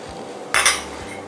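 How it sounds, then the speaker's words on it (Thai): A spoon scrapes and clinks against a pot while stirring strawberry jam jelly, making one brief bright metallic scrape in the middle of quiet kitchen background, close and fairly loud. "คนอีกสักแป๊บหนึ่ง"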